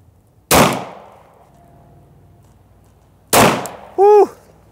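Pistol shots fired during a shooting range drill, two loud, sharp single reports a few seconds apart, each ringing out briefly, then a short electronic beep at the end.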